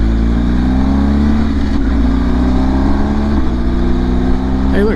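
A 2023 BMW R1250 GS motorcycle engine drones steadily while riding, with the pitch climbing and then dropping at quick gear shifts, loud and close with wind roar and a rider talking over it.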